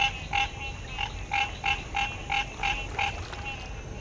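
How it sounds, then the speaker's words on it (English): A bullfrog croaks in a Florida swamp, its deep calls repeating about ten times in a steady pulsing rhythm, fairly close and clear over a low background hum, with no voices. "there's a giant frog back in there."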